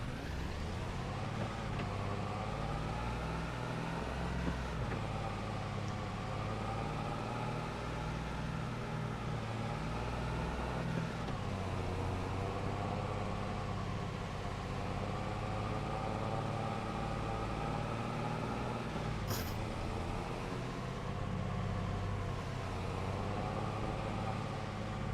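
A farm tractor idles in a video game set on a British farm map: a steady, low engine drone with a layered hum that holds evenly throughout, with no voices over it.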